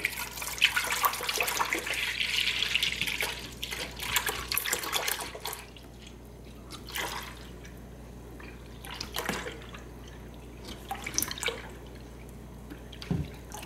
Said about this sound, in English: I'm just going to pour my entire gallon of milk into the saucepan.